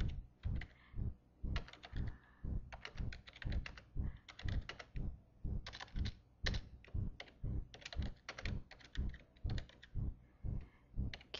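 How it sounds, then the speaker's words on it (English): Steady typing on a computer keyboard, close and fairly quiet, with dense bursts of key clicks and short pauses between runs, no talking. "And then of course we'll type in something."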